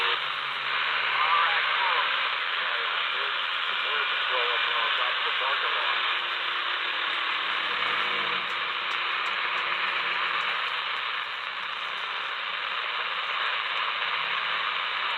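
CB radio scanner hiss with muffled trucker voice transmissions from the Rockwood and Harriman, Tennessee area, a steady band of static holding throughout with garbled speech breaking through.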